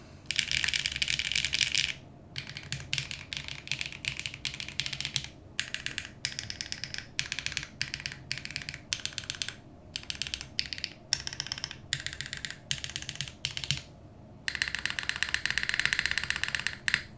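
Keys clack on a keyboard with GMK ABS keycaps and Saru V2 switches on a PP plate, bursts of quick, crisp typing separated by brief pauses, heard alone at close range.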